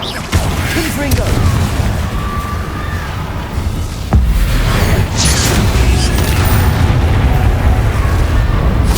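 A Confringo blasting spell goes off in Hogwarts Legacy on PS5, a heavy boom with mechanical creaks and rumbling debris in an old tomb, loud and sustained, with a second blast midway.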